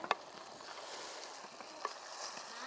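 Country chicken cooking in a pot of mountain spring water, a soft, steady bubbling hiss at low volume with a couple of faint clicks, and no voices.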